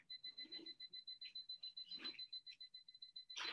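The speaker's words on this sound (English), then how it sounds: "Okay, timer is started." A classroom timer beeps in a rapid, steady train of high electronic pulses that runs throughout, fairly faint.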